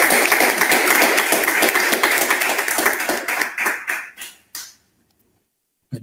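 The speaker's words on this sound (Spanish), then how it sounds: "aplausos, los que estamos aquí también" An audience at an educational talk applauds with dense, continuous clapping. The clapping thins into a few last isolated claps after about four seconds, then stops into silence.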